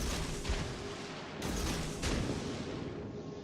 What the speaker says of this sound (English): So he's firing HE.